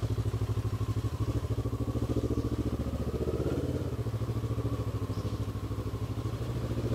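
A motorcycle engine running at a steady idle, a close, even putter of rapid low pulses that holds throughout, with no speech.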